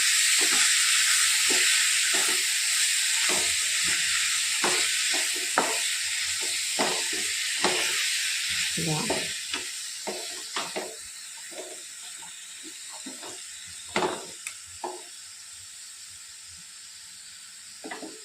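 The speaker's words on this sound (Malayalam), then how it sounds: "അപ്പം അങ്ങനെ തക്കാളി ഇട്ട് ഒന്ന് നമ്മൾ അങ്ങനെ മിക്സ് ആക്കിയെടുത്തു" Tomatoes sizzle and hiss in a pan of fish curry, with a steady frying fizz and intermittent clacks and scrapes of stirring that grow sparser toward the end.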